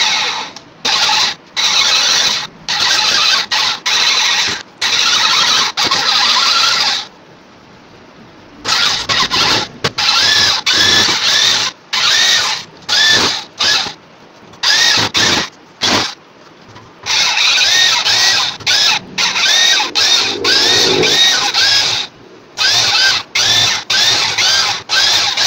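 An electric drill spins a lapping tool on the valve seats of a cylinder head during an overhaul. It runs in repeated loud, whining bursts that start and stop, separated by short silent pauses.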